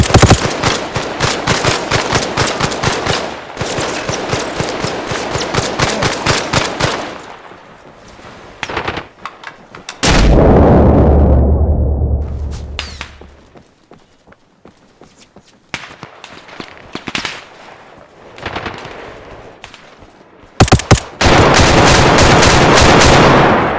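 Bursts of gunfire in a battle over an airport in ARMA Reforger: dense rapid volleys, then a loud low blast that fades, followed by scattered single shots and another heavy burst of automatic fire.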